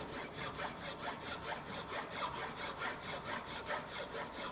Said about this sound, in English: So, now the rough filing has been is done, and then there will be fine filing. This is the fine filing.